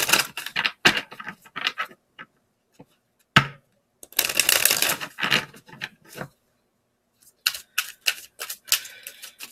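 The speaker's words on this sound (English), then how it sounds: "I'm going to shuffle these, do a shuffle cut" Crisp, rapid riffling of tarot cards in short bursts separated by pauses, with soft taps and handling noises close by.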